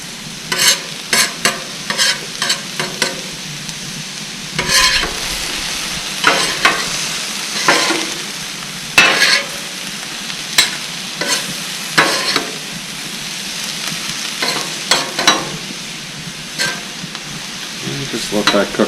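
Teriyaki beef and mushrooms sizzling steadily in a pan, with repeated scraping stirs of a utensil breaking through the frying hiss at irregular intervals.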